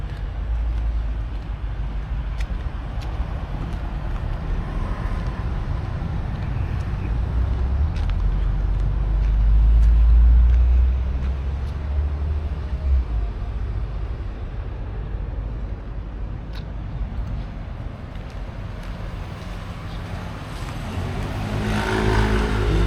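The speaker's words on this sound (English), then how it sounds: "It's going to get loud with the cars and the traffic" Street traffic in Pai, Thailand, a steady low rumble of passing cars and engines heard from the roadside, swelling as a louder vehicle goes by midway and rising again near the end.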